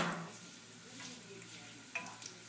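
Potatoes crisping in a pan for home fries give off a soft, steady sizzle, quiet and close, with a few brief scraping clicks of a utensil partway through.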